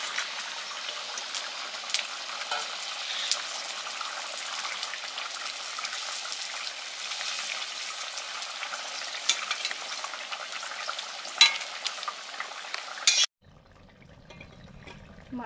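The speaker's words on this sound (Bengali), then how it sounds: "ভাজা মাছগুলো দিয়ে দিচ্ছি ঝোলে।" Fried fish pieces go into a boiling fish curry with new potatoes and are stirred, giving a steady sizzle and bubbling with scraping stirs, close and continuous before cutting off near the end.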